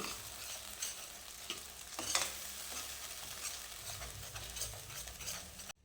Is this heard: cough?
no